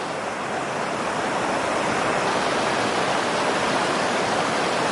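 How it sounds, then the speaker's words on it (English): A waterfall beside the Pacific Crest Trail roars in a steady, dense broadband rush of falling water, loud and unbroken throughout with no voices. "That's the waterfall."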